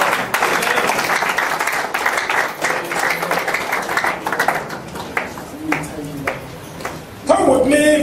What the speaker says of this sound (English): I clap up for Almighty God